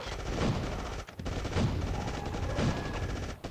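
Gunfire in the mobile game State of Survival: dense, continuous automatic shooting with rhythmic heavier booms about once a second, one brief break near the middle, loud and steady.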